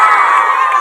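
Audience at a live magic show shouting an answer back loudly together, a brief, dense burst of many voices calling out at once, near and loud, lasting under a second.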